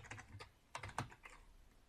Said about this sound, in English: So I'm going to type in sudo